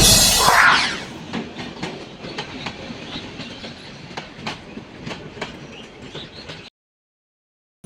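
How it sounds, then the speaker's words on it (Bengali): A train at Gouripur railway junction, an old station in Mymensingh district, clatters past with a steady clickety-clack of wheels over rail joints, loud at first and then even, ending abruptly in silence. "গৌরীপুর রেলওয়ে জংশন এটি ময়মনসিংহের জেলার প্রাচীনতম একটি রেলওয়ে স্টেশন"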